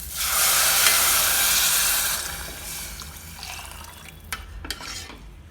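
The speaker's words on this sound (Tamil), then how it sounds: "இப்போ 1/2 லிட்டர் தண்ணி அதில் ஆட் பண்ணிடலாம்." Half a litre of water poured into a pan of roasted broken wheat, a loud steady rush and sizzle for about two seconds that fades into softer bubbling, with a couple of small clinks near the end.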